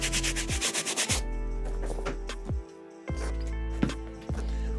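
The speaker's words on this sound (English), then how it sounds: "back and forth motions, letting the brush do the work, creating that nice foamy residue" A brush scrubs a sneaker worked with cleaning foam, giving a rapid series of short back-and-forth rasping strokes, then longer sweeping rubs with brief pauses between, close and fairly loud.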